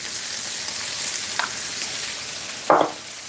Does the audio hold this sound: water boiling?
yes